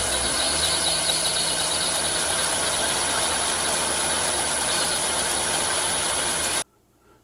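A lathe motor drives a boring bar during a machining cut, giving a steady mechanical drone with a faint high whine and a constant rattling texture, held evenly for several seconds before cutting off abruptly.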